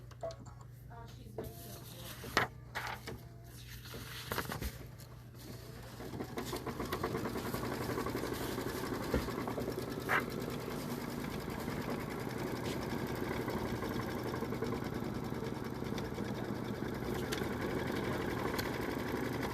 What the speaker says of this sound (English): And now we're going to stitch the batting tack down line.